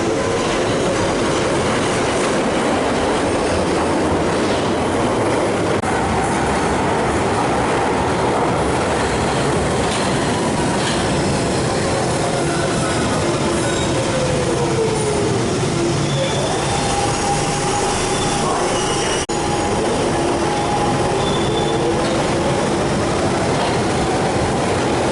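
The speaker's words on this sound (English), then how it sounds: "And this train's about to depart. This is the central line." A London Underground Central line train pulls out of Bank station, a steady loud rumble with clattering wheels and rising and falling squeals and whines filling the platform throughout.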